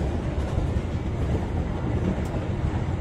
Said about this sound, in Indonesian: Kita masih melaju ngebut nih dengan kecepatan maksimal 90 km per jam.